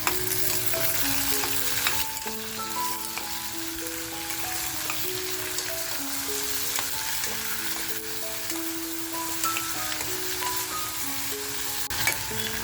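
Beetroot and tomatoes sizzle in a hot pan while being fried for fish pav bhaji, producing a continuous loud crackling hiss that lasts throughout, with no talking.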